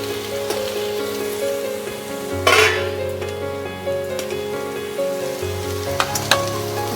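Mixed vegetables with pumpkin, beans and carrot fry in a pan with a steady sizzle, a sudden hissing burst as they are tossed, and scattered utensil clinks from stirring, over a low background hum.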